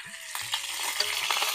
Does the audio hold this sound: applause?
no